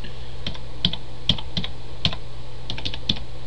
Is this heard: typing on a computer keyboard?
yes